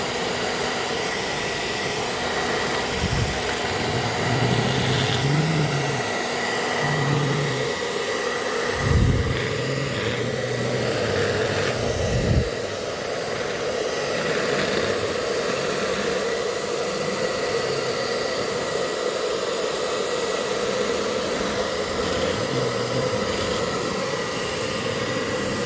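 A hair dryer blows continuously at close range, an even, loud whir with a few low thumps and bumps partway through.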